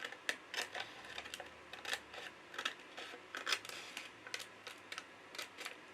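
Paper file folder flap being cut with scissors, a run of crisp snips and crunches in an irregular rhythm, close and fairly quiet, with no talking.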